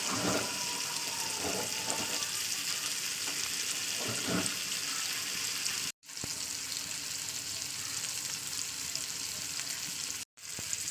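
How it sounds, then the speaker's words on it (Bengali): Vegetables frying in a pan, a steady loud sizzle running throughout with soft scraping as they are turned over, broken by two brief silent gaps. "আমি এরকম ঘুরে ঘুরে ভাজি"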